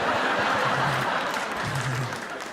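A stand-up comedy club audience claps and cheers in a dense, steady wash of applause that fades slightly toward the end.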